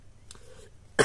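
A single short, sharp cough from a man with a cold comes at the very end, after a moment of faint, quiet sounds.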